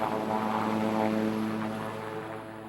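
A helicopter in flight gives a loud, steady drone of rotor and engine that holds evenly throughout, with no voices.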